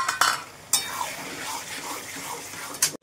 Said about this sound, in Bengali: কষানো হচ্ছে চর্বি দিয়ে আর কিমা দিয়ে।